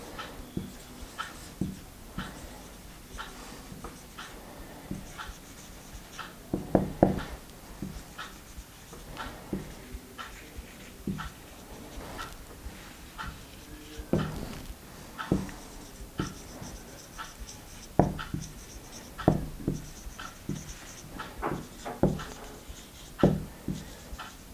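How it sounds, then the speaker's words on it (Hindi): A sentence is written on a board during an English grammar lesson, heard as quiet, intermittent scratchy strokes and taps that come in short clusters. "अब मैं एक सेंटेंस लिख रही हूँ बोर्ड पे"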